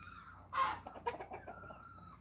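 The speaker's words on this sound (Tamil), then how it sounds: "இந்த கோழியெல்லாம் பாருங்களேன்" Chickens clucking and calling close by, a couple of short squawking bursts over a faint background, with no talking.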